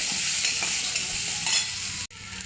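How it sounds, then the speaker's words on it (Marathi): Kitchen king masala is stirred into a sizzling pan for a farsan curry, a close scraping stir over steady frying hiss, with a brief knock near the end. "थोडा किचन किंग मसाला आणि तो छान हलवून घेऊया"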